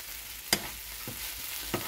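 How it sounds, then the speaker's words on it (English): Noodles with vegetables and egg stirred in a pan: a quiet sizzle broken by three soft scrapes of the utensil, spaced apart, heard close with no talking. "all I'm just doing now is stir together"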